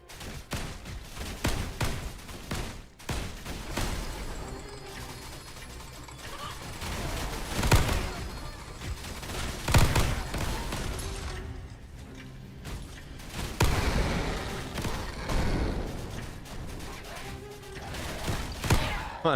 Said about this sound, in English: The explosion sound on that trauma is going to get super irritating, huh?